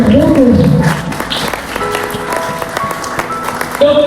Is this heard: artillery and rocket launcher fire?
no